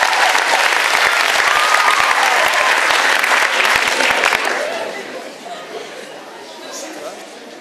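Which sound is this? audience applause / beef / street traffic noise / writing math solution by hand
audience applause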